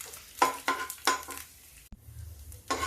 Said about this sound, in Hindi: अब इसको धीमी आंच पे फिर हम भूनते हैं